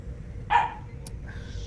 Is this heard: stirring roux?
no